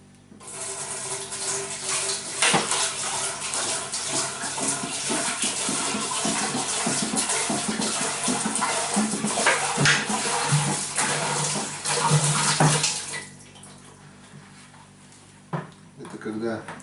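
Five liters of water pour steadily into a home-canning autoclave pot fitted with a false bottom, a continuous splashing rush lasting about thirteen seconds before it stops, followed by quieter handling sounds and faint talk.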